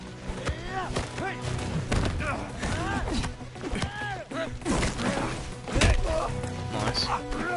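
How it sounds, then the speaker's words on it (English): Knee strikes in melee combat in 007 First Light: dull thuds and whacks land amid a busy game soundtrack, with someone talking over the blows. "Knee strikes."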